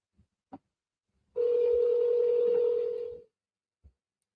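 A phone call to a buyer starts with a couple of short keypad dialing beeps, then one steady electronic tone that holds for about two seconds and cuts off, followed by a final faint beep.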